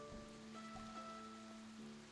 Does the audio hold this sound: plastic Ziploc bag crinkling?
no